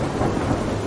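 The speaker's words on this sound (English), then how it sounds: "Let's bring in a thunderstorm here." Thunderstorm sound effect played during a Halloween live stream: a dense, loud rumble of thunder mixed with rain, continuous for the brief moment with no voices.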